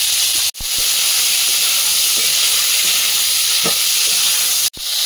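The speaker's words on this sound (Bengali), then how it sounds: "বরবটিটা ভাজতে দেবো, বরবটি আর গাজর" Long beans and carrots frying in white oil give a steady, loud, close sizzle that runs the whole time, with two brief cuts in the sound and a few faint stirring taps.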